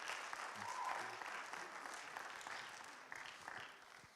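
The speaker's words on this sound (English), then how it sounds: "Let's give them one last hand clap." A crowd at a regional quizzing event claps together in a quiet, fairly distant round of applause that fades away over a few seconds.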